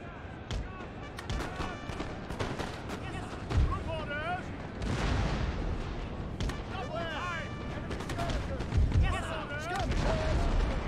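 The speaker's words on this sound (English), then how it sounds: "Oh, that's some good hits from the howitzer there." Howitzer artillery in the Napoleon: Total War video game fires in scattered heavy booms and cracks, several distinct shots spaced across the battle, with musket crackle and a voice talking between them.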